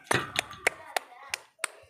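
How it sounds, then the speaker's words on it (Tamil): A small child claps with joy, making six sharp, separate claps spaced unevenly across a couple of seconds, fairly close and clear against a quiet background. "பாருங்கள் சந்தோஷத்தில் கை தட்டுது."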